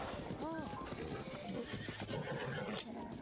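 A horse in the Zelda Breath of the Wild game gives a short neigh, followed by the clip-clop of its hooves trotting steadily underneath, with a voice talking over part of it.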